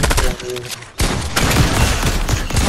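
Rapid gunfire in Fortnite crackles in dense bursts, briefly pausing before resuming in a sustained volley, with a voice talking underneath.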